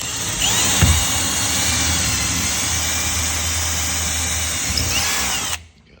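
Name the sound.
power drill drilling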